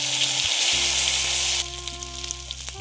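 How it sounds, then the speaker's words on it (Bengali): Whole spices hit hot mustard oil in a wok with a sharp burst of sizzling that fades to a quieter crackle with scattered pops after about a second and a half. "তেল গরম হয়ে গিয়েছে, ফোড়ন দিয়ে দেবো।"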